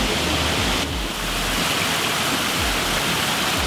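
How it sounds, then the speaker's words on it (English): Indoor waterfalls inside the Bass Pro Shops Pyramid store in Memphis, Tennessee give a steady, broad rushing of falling water. The roar stays constant and fills the space, with no voices. "It's actually pretty nice to hear waterfalls here inside the store."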